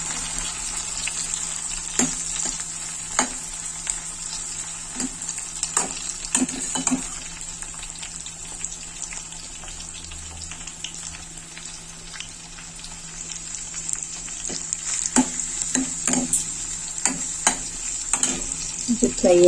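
Onion and green chili fry steadily in oil in a pan, a constant soft sizzle broken by scraping stirs and utensil taps, with a faint voice now and then.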